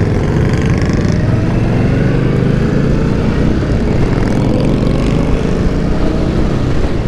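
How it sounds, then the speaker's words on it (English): Engine of a 2018 Indian Scout cruiser motorcycle on a test ride outside a speedway, a loud, steady low rumble running continuously throughout with wind noise and no voices. "Test riding an Indian Scout."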